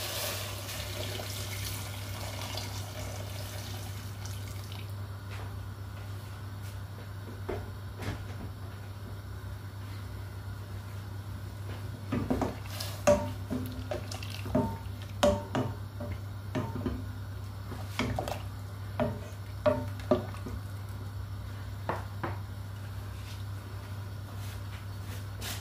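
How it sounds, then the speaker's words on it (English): Boiling water pours and splashes into a pot of chicken vegetable soup over a steady low hum, followed by a run of scattered clinks and knocks from utensils. "Now I'm going to add some boiling water"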